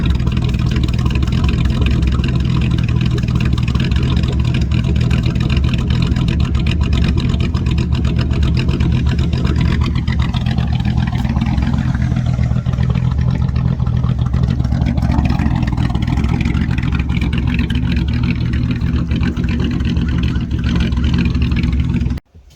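A HEMI-powered all-wheel-drive car rumbles loudly and steadily while driving up and down a street, its engine note swelling slightly midway before cutting off abruptly at the end.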